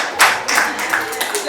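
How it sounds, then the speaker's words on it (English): A few people clap in a small gathering at a book launch, producing several brief, uneven claps close by, mixed with some light voices. "Clap for me."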